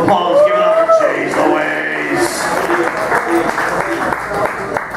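A comedy-club crowd claps steadily for a performer, the applause dense and sustained with voices shouting over it.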